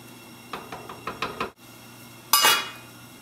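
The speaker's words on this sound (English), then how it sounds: "Just give it a stir so it doesn't stick." Pasta stirred in a pot of boiling soup: a quick run of five or six clinking knocks of a utensil against the pot, a brief pause, then a louder scraping clatter.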